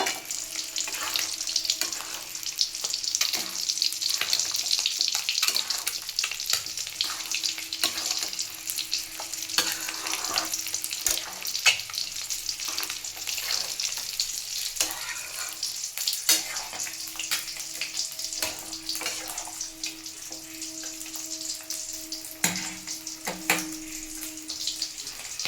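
Chopped ginger and green chili fry in a pan with a soft, steady sizzle, broken by the clatter and scrape of stirring, heard quietly and alone throughout.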